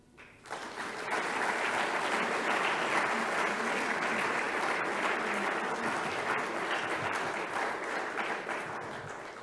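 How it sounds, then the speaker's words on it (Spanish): Sustained audience applause fills a summit hall after a speech on environmental damage, rising quickly and holding at a steady, dense level before easing slightly at the end. "Me quedé no para escuchar los aplausos"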